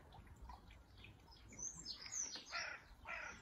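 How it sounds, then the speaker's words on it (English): Faint bird calls and chirps on a Palm Sunday morning near All Saints church in Carshalton, with a few sharper caw-like calls rising toward the end over quiet outdoor background. "Listen to the sound of the birds in the background."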